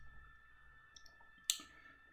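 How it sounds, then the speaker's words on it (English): A computer mouse gives a single sharp right-click, heard alone and close in an otherwise quiet room. "you right click"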